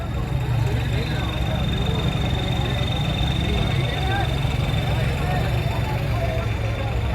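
A modified homemade tractor engine runs steadily at a tractor competition in Nurmahal, a continuous loud low rumble with no pauses from start to end.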